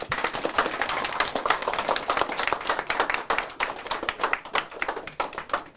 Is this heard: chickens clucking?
no